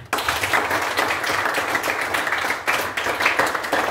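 Students in a junior high school classroom in Nainggolan, Samosir, Indonesia, applaud together, a dense, steady wash of clapping that fills about four seconds at close range and fades out.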